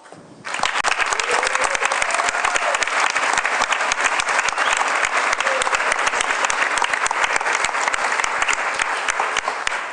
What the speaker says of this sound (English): Please receive him with a very loud clap.